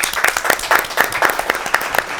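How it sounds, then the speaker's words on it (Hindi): Audience claps to welcome a Christmas tree at a children's holiday show, a light, fairly sparse round of applause with distinct rhythmic claps standing out, close and steady throughout. "तो आप सबकी जोरदार तालियों में वेलकम करते"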